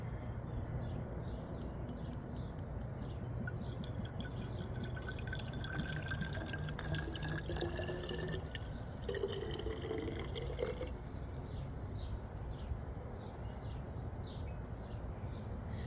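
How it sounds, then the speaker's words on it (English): Water trickling and dripping as a bottle is filled with moon water for a homemade potion, a steady close splashing flow lasting about eleven seconds before easing off, with faint birdsong outdoors. "I've got a bottle here of moon water, so let's go ahead and fill up our bottle."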